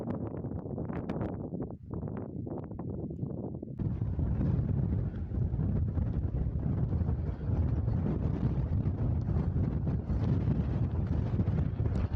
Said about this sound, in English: This wind's a little bit stronger than I anticipated.